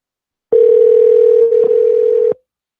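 A telephone dial tone sounds while a call is being placed, a loud, steady single-pitch hum near the phone that lasts almost two seconds with a brief flutter midway, then cuts off.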